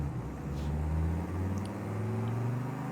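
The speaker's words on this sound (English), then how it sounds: "let's face it the right direction and accelerate" A car engine in Forza Horizon 5 hums and slowly builds as it accelerates smoothly, a steady rising drone under faint tire noise, with no talk.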